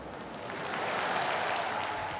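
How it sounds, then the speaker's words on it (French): Applause from party militants at a Les Républicains political rally, a dense steady wash of clapping that swells slightly and holds at moderate loudness, with no talk over it. "Voilà, Angela, applaudie par les militants du parti Les Républicains."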